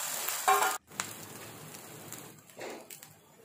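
Egg-dipped bread for French toast frying over a low flame in a pan, a steady soft sizzle close by with a few brief louder bursts as it settles.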